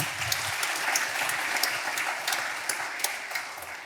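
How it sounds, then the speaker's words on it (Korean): A church congregation applauding during a worship service, a steady burst of many hands clapping together for several seconds, full and close, with no talk over it. "우리 사랑하는 부모님들께 박수로 감사드릴까요?"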